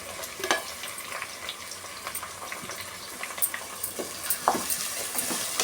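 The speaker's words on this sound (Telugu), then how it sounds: "రెండు ఉల్లిగడ్డలు పెద్దవి, ఒక 2 పచ్చిమిరపకాయలు. ఉల్లిగడ్డలు వేగాలి." Onions and green chillies frying in a pan, a continuous crackling sizzle with frequent stirring scrapes and small clatters, close and fairly loud, no speech.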